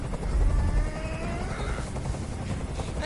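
A helicopter hovers overhead in the video game Detroit: Become Human, a loud, constant rotor roar with rumbling low thump filling the whole short stretch without letup.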